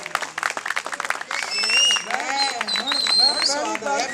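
An audience at a Punjabi poetry gathering claps in quick rapid bursts, then the clapping thickens into steady applause mixed with crowd voices, a whistle and a speaker talking over it.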